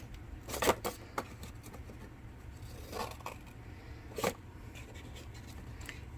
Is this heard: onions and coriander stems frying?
no